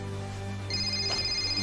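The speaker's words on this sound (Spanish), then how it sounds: "Es mi móvil." A mobile phone rings with a steady electronic ringtone, its tone holding and brightening partway through, heard close and alone with no talking.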